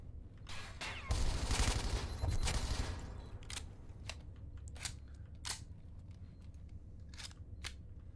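Gunfire with heavy recoil from the video game Interstellar Marines: a dense, rapid burst of shots up close, then scattered sharp single cracks and clicks over the following seconds.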